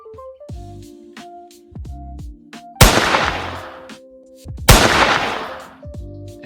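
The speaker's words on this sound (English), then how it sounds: "find a gunshot sound that you like" Two sharp, loud gunshot sound effects in Roblox Studio ring out a couple of seconds apart, each decaying quickly, over a plucked musical tune.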